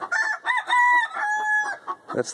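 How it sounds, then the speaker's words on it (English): Hen cackling her egg-laying song in an old backyard coop, a close series of loud squawking clucks with drawn-out rising notes, irregular and alone. "I just laid an egg song, or what we call the chicken song."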